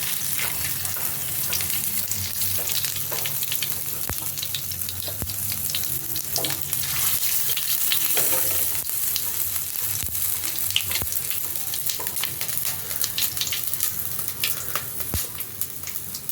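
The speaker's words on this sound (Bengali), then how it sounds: "একটা তেজপাতা আর একটা শুকনো লঙ্কা ফোড়নে দিলাম" Bay leaf, dried chilli and panch phoron sizzling in hot oil for a pumpkin-leaf poppy-seed dish, a steady close crackle with occasional stirring clinks and spatters, no talk.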